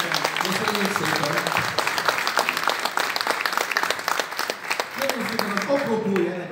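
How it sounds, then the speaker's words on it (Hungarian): Audience applause for the artists at a historical comic festival and exhibition in Esztergom, a dense wash of clapping running steadily throughout with voices talking over it at moments. "a jó művész urakat, nagy tapsot kérjük már neki"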